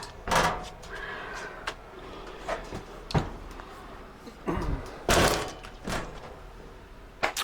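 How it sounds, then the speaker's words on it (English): A bifold bathroom door inside a converted bus gives a run of knocks, thumps and sliding rattles, some sharp and some dull, spread across several seconds with quiet gaps between them. "And the bathroom door, which we'll do that one now, it's a bifold."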